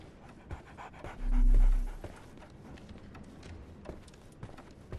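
A dog pants in Sherlock Holmes The Awakened, quick breathy rhythmic huffs over a low ambient bed, with a brief deep hum swelling in the middle.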